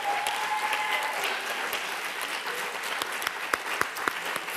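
An audience at an academic conference on African societies applauds, a soft, fairly distant wash of clapping with a few sharper individual claps near the end.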